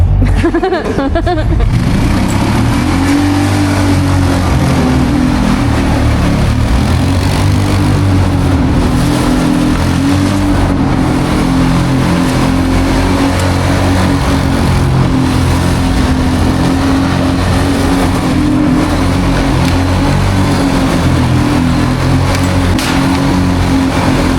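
Car engine runs steadily and loudly throughout, a continuous low rumble with slight revving as the vehicle is driven off for a spin on a site where vehicles are crashed into a concrete building.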